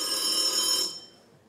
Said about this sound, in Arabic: صوت مزعج جدا مش ممكن التليفون القديم ده.